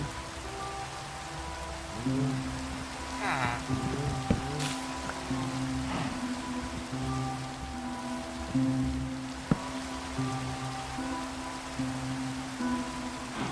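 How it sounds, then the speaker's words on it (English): Rain patters steadily across the ground in Minecraft, a soft even hiss with faint game sounds and the tones of a droning background layered underneath. "it began to rain."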